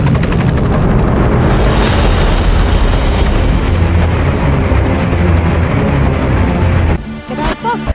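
A video game helicopter drones loudly and steadily for about seven seconds, thick low rotor rumble with broadband wash, then cuts off into a few brief thumps and a short gap near the end.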